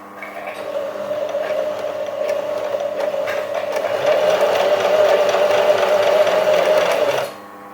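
A basic sewing machine hums at a steady pace as it stitches a pants edge, running loud and close for about seven seconds before stopping abruptly.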